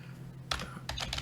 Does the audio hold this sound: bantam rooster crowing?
no